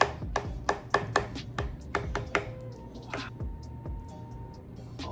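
A knife cuts into a lasagna, a string of soft, quick taps and squishes, close and fairly quiet, coming in a rapid cluster and then thinning into a few scattered clicks.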